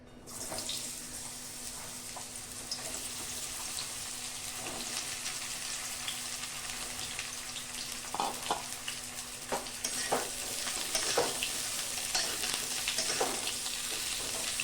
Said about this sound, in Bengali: তেলটা খুব ভালো মতো গরম হয়ে গেছে, এবার পটলগুলো দিয়ে দেবো।